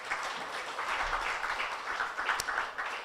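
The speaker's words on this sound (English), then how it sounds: "Can we give him another round of applause?" An audience at the OFAB Africa Media Awards 2023 ceremony applauds steadily for a few seconds, a dense continuous patter of clapping with no break.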